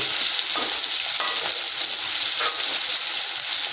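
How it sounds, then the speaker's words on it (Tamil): Small shallots, garlic, potato pieces, cinnamon, cloves and cardamom sauté in hot oil for a broccoli gravy, a loud, steady, dense sizzle with a few soft stirring scrapes, close up and continuous. "சின்ன சின்னதாக அரிஞ்சு வச்சு அதை வதக்கிட்டு இருக்கோங்க இது வந்து சின்ன வெங்காயம்"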